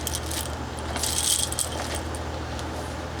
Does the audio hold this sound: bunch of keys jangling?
yes